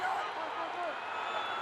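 Stadium crowd at an NFL game between the Broncos and Chiefs cheers in a steady, dense roar with scattered clapping, loud throughout with no break.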